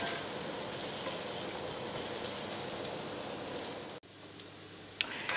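Onions sizzle in butter in a pan for pork chops, an even, close crackling hiss like light rain, broken once by a sharp dip and a brief knock from stirring, with no voices.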